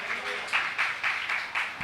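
A church congregation at a Sunday service claps loudly in a steady, even rhythm of about seven claps in under two seconds. The clapping comes from many hands in a large room.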